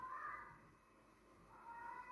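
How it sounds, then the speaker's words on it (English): A pet cat meows twice indoors, two drawn-out cries at the start and end separated by a quiet pause, faint against room noise. "Is she for real my fucking cat"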